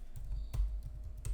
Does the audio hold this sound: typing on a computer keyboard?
yes